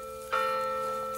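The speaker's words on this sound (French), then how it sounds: "La cloche qui sonne à la fin de la messe et moi je trouve une cloche." A small bronze bell, dug up from the soil, is struck once and rings with a clear, sustained tone that slowly fades, close and alone against faint outdoor background.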